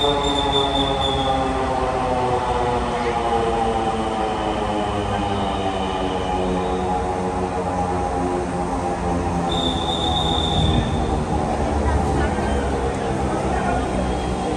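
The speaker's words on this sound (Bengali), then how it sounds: "একটু পরেই ট্রেন চলে এলো।" A Dhaka metro train rumbles steadily on the tracks with a constant low roar, and a high metallic squeal rises briefly twice as it rolls into the station.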